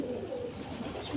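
A soft, low coo from a male pigeon, brief and close, against a quiet background.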